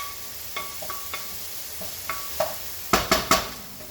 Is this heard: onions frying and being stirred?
yes